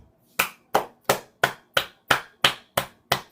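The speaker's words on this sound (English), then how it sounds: "I'm actually giving you a round of applause for that." One person claps slowly and steadily, nine crisp, evenly spaced claps close to the microphone with short silences between them.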